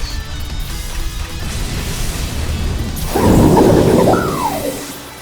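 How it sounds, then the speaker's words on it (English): Thunder Punch attack in a Pokémon video game doubles battle: a loud electric crackling crash bursts in around three seconds in, with a rising synthetic sweep, over steady background game music. "One more Thunder Punch will finish it off"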